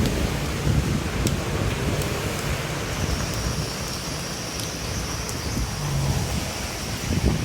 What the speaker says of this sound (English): Let me like wait for the wind to pass.